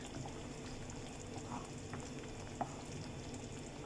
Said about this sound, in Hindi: अब इस मसाले को अच्छे से भुनना है